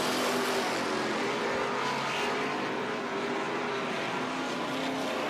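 Hobby stock race cars roaring around a dirt oval track, a continuous blended engine drone from several cars at middle distance, steady and without clear passes.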